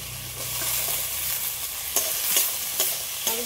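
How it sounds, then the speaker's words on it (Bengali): Onions being stirred into a spice masala in a pan give a steady loud sizzle, with a few scraping strokes of the spoon near the end and no voices. "এগুলো আবারও একসাথে একটু ভালো করে নেড়ে নেব"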